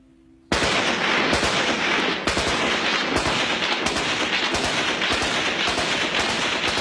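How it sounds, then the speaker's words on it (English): Tribesmen fire guns in the Khyber Pass on the northwest frontier, a dense, continuous crackle of rapid gunfire bursting in abruptly and sustained loud and close, with sharp individual shots punctuating the barrage. "these days the tribesmen use their firearms the way we use fireworks"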